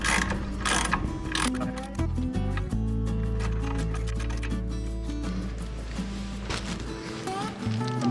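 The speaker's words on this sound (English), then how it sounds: "Let me just try a 3/8 drive deep socket in there" A 3/8-drive ratchet with a deep socket turns a bolt on Subaru rear brakes, producing close, continuous rapid clicking that runs for several seconds in a steady rhythm, with no talking.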